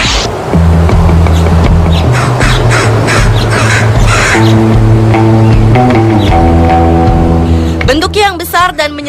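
A crow caws in a few harsh squawks near the end, mixed in with background music and a narrating voice.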